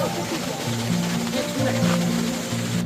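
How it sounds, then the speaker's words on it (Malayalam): A constant rushing of waterfalls at Plitvice Lakes National Park, Croatia, fills the background, steady and broadband, with faint tonal hum underneath. "ഈ പാർക്കിനുള്ളിലെ വെള്ളച്ചാട്ടങ്ങളുടെ മനോഹരമായ ശബ്ദം കേട്ടുകൊണ്ടാണ് ഞങ്ങൾ നടക്കുന്നത്"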